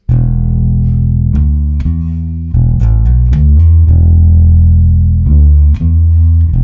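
A bass guitar plays a slow funk riff of deep plucked notes, spaced out with gaps between phrases, loud and close, nothing else heard.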